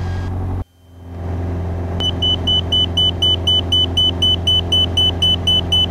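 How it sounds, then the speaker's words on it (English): A marker beacon tone sounds in the cockpit of a 1941 Piper J-3 Cub: a loud, steady run of rapid, evenly spaced high beeps over a low, constant engine drone, after a brief sudden drop in noise. "Those are called marker beacons."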